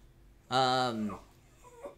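A dog gives one short, high, tonal yelp or whine, close by and fairly loud, followed by a fainter brief yip a moment later in a quiet room.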